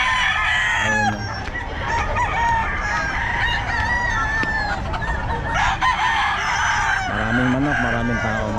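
Roosters crow repeatedly over a busy chorus of clucking chickens at the Bocaue pet market, with a crowd murmuring underneath throughout.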